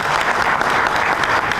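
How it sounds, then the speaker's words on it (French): A gala-evening audience applauds, producing a loud, dense and continuous wash of clapping from many hands with no pauses. "Ça aussi, je vous demande de l'applaudir."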